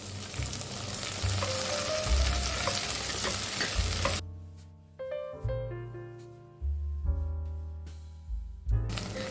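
Onion, large mild green chilies and curry leaves sauté in a pan with a dense sizzle, which gives way to repeated hollow scraping and knocking strokes of stirring against the pan.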